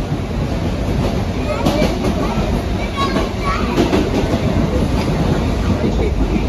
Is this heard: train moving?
yes